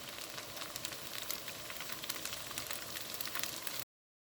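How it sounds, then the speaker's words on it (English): Leftover cooked pho rice noodles sauté in a hot pan, a steady crackling sizzle that stays even and close for about four seconds before cutting off abruptly. "You just want to saute it."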